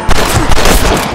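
Gunfire in the video game Red Dead Redemption, at a house in Armadillo: loud, close shots cracking in quick succession, a dense volley filling the whole moment with no talk.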